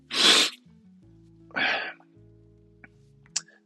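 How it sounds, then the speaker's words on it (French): Two loud, close sneezes about a second apart, followed by a couple of faint clicks over a low background hum. "Excusez-moi, je viens d'éternuer."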